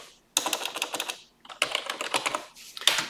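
Fast typing on a computer keyboard comes in three quick runs of close, crisp key clicks separated by brief silences, with no voice present.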